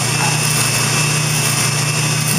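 A generic soldering iron tip being ground on a small bench grinder or rotary tool while turned between the fingers, a loud continuous high whine with steady motor hum and no breaks.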